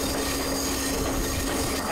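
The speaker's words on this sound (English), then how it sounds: "The squeaking of the tires on the rail and whatnot is just like..." Train wheels screech faintly against the rails under a constant loud rumble of a slow-moving railcar in Sri Lanka, heard from aboard, with no clear pauses.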